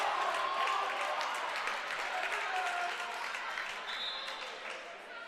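A crowd at a college game applauds and murmurs in a broad, sustained wash that slowly fades, heard from the broadcast position without clear voices.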